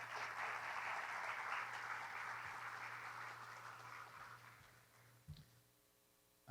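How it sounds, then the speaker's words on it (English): An audience at a sea level rise forum applauds the speakers, steady clapping from a roomful of people that slowly fades over several seconds, followed by a couple of faint knocks. "Can we get another round of applause for all the speakers?"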